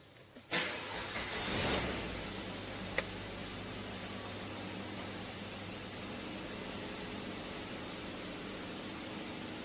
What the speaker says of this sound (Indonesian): Oke, kita hidupkan mesinnya.